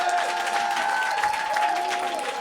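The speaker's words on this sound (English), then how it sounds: "A round of applause for him." An audience at a live-streamed gaming event claps in a brief, steady burst of applause lasting a couple of seconds, with a faint tonal hum beneath it.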